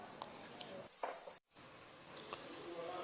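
Red chili, salt, ground coriander and turmeric fry in a pan for chicken karela, giving a soft continuous sizzle with a few clinks of stirring and a brief dropout midway.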